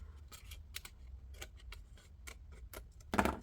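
Scissors trimming vellum paper make a series of short, crisp snips and crinkly paper clicks, close and quiet, in an uneven rhythm with a louder rustle near the end.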